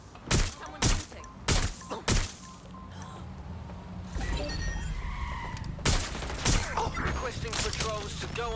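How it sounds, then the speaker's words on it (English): Gunfire in the video game Watch Dogs Legion: a few sharp, loud shots in quick succession, then a pause and a busier stretch of scattered, louder blasts and impacts later on. "Someone's shooting."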